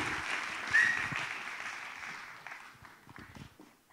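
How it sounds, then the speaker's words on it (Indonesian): An audience of university students applauding at a forum with regional election candidates, a dense patter of clapping that swells briefly and then gradually fades away over a few seconds. "Boleh kita berikan tepuk tangan sekali lagi"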